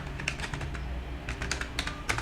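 Java code being typed on a computer keyboard, with quick, irregular clicky keystrokes close by, sometimes in short bursts with brief pauses between, and no talking.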